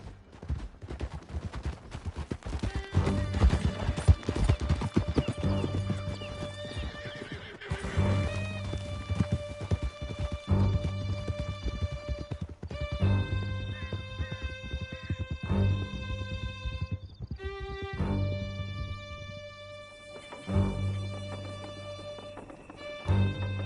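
A horse gallops steadily in the Red Dead Redemption 2 video game, its hooves beating under a loud, swelling orchestral score, with whinnies and occasional gunfire in the mix.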